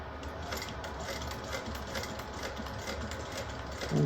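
Sewing machine running steadily while stitching a curved seam on a small project, a continuous mechanical whirr at moderate level with no talk.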